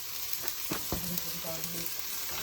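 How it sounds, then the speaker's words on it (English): Onions frying in hot oil in a pot, giving a steady bright sizzle with a few soft thuds and crackles as pieces settle, close and even throughout. "oil in the pot, and we are going to add onions"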